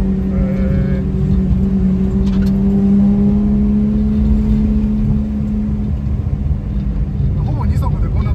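Toyota AE86 engine holding a steady drone with a rising tone in second gear, continuous and loud throughout, heard from inside the car with faint background rumble.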